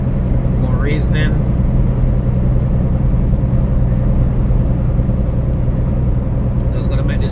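A semi truck's engine drones in a constant, loud low rumble while cruising down a wintry highway, the steady hum continuing without a break throughout.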